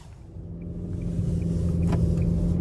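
Inside a 2025 Nissan Sentra SR on the road, a low engine and road rumble builds gradually as the car picks up speed, steady and moderate with no talk.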